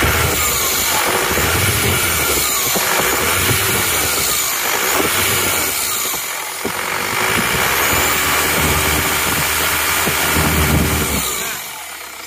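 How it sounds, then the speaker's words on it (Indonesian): A turbocharged car engine is held at about 2000 rpm, giving a loud, steady drone with a whistling turbo whine over it and a slight rise and fall in pitch, heard up close with no talking. "Nah, kita lihat ini wastegate turbo ini di gas 2000."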